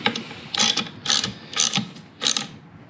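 A ratchet clicks in four quick, evenly spaced bursts while top plate hardware on a 2020 KTM XABR suspension system is tightened. The sound is close and clear, with no talk over it.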